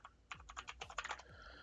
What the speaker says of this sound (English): God, it's been a minute since I've typed on clicky keys.